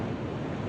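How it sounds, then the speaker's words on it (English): Vernal Falls in Yosemite roars as a dense, steady wash of falling water and blowing mist, close and loud with wind rushing over the microphone, no voices. "here's all the mist"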